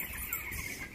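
Chickens cluck on a farm in a brief, steady burst of fowl calls over a dense, noisy outdoor background, with no talking.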